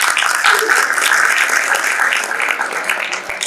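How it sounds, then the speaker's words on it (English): A live audience gives a round of applause for a guest at a Sikh history talk, with dense steady clapping filling the room for several seconds. "A huge round of applause for Sir."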